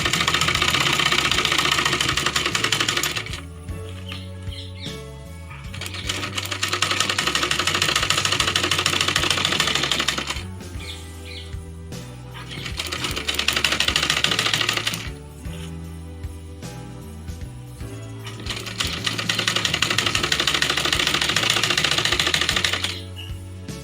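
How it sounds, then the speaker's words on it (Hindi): Sewing machine running in three long bursts while stitching the neck finish on a high-neck blouse, a fast rattling hum close by, with short pauses and handling sounds between runs. "गले की फिनिशिंग के लिए हम इस पे एक सिलाई और कर लेंगे।"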